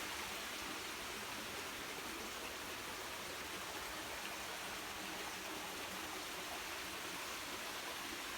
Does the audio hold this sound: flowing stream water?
yes